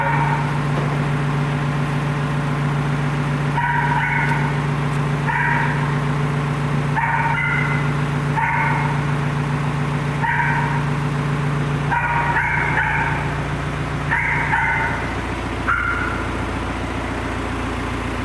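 A dog barks in repeated short bursts at a steady pace, somewhat distant, over a constant low engine-like hum.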